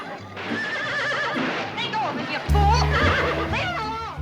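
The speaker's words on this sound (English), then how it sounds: "Nobody's ever been able to handle my horse Thunderbolt before" A horse whinnies loudly and close in a Western film, its high shrill neigh rising and falling over several seconds amid hoof clip-clops and other scene sound.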